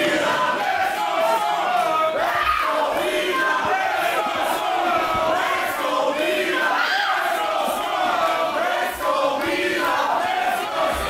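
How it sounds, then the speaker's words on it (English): Wrestling crowd at an Unlimited Wrestling Ocean Bash show roaring and shouting continuously, a dense, steady wall of cheers and yells close around the listener throughout. "Very torn crowd here tonight."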